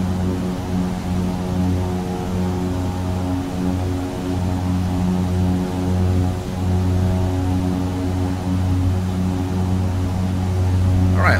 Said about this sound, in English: The Embraer 110 by Dreamfoil.